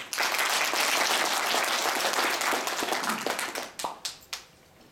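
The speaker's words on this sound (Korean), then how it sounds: "뜨거운 격려의 박수 부탁드립니다" Warm audience applause at a leadership gathering, a loud burst of many hands clapping that gradually thins into a few scattered, separate claps before fading.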